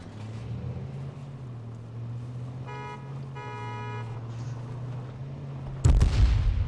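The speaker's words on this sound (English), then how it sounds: "Whoa, watch out for that explosion." A sudden explosion bursts in near the end during an H1Z1 Battle Royale match, loud and broadband over a steady low vehicle hum, after a stretch of engine drone with faint tonal game sounds.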